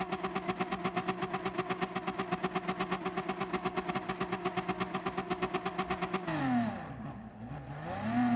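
A BMW M4 Gr.4 race car in Gran Turismo Sport launching from a standing start at Dragon Trail Gardens: a loud, buzzing, pulsing engine note climbing through revs, then a gear change with a falling and rising pitch sweep.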